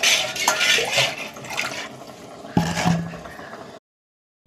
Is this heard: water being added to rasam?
yes